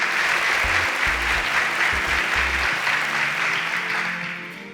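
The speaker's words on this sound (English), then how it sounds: "Please, a round of applause for Damola." A studio audience breaks into sustained, dense applause on a Nigerian storytelling show, loud and steady throughout before beginning to fade at the end.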